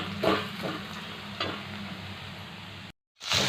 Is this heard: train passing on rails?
no